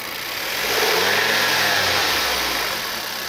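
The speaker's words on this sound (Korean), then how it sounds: "악셀링 밟아봐봐" A car engine with an abnormal sound revs up after a restart, its pitch rising and then falling back, loud and close, with no voices.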